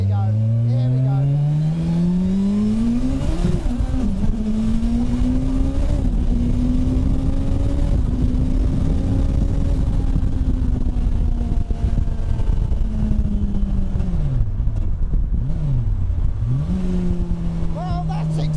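A 450bhp Hayabusa Turbo motorcycle accelerating hard, its engine note rising steeply through the gears with brief dips at shifts, loud and close over strong wind roar.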